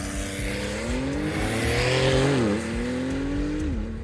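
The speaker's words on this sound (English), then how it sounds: "And that's launch control in a Turbo S." A 2021 Porsche 911 Turbo S launches under launch control, its engine note climbing in a loud, steady rising roar through one brief shift dip, heard close from inside the car.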